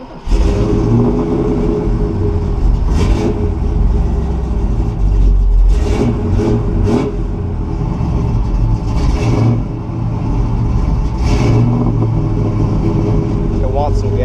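A 1969 Buick Special Deluxe engine runs at a steady fast idle of about 1500 rpm while warming up, a constant loud mechanical hum with someone talking over it throughout.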